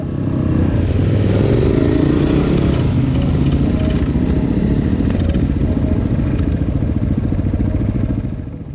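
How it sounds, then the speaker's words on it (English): Big and little motorcycles climb a muddy clay hill, their engines roaring loudly and steadily with constant revving and mechanical clatter that stays close throughout before easing slightly at the end. "So the guys on the little bikes thought they'd just let the big bikes go and check it out and see if it was okay to get up"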